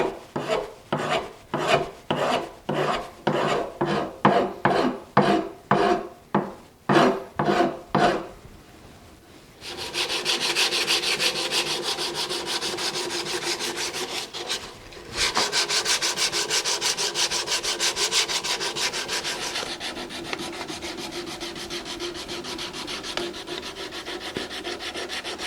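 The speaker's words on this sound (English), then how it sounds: "that's kind of phase 1 of the sanding done" Rhythmic rasping strokes of hand sanding on the wood of an old pre-war sled, about a dozen distinct passes, then a denser continuous scratching with a brief pause midway, close and loud.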